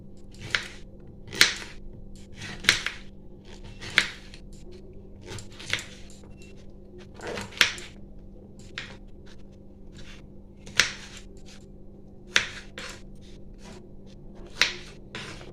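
A knife trims the ends off small local pointed gourds (potol), producing crisp, separate snapping cuts every second or so against a quiet low hum, with no talk.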